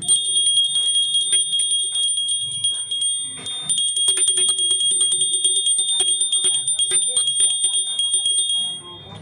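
Brass bell pendants for goat or dog collars, shaken close and loud, a rapid jangling chime with high ringing overtones that carries on for several seconds before stopping.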